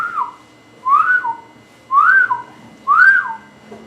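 Melodic whistle sample in a produced music track: three short rising-and-falling phrases that repeat evenly, loud and close over a quiet beat, with no voices.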